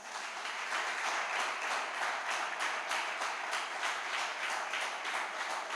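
A church congregation applauds steadily, dense many-handed clapping that holds at an even level throughout, with no voices standing out.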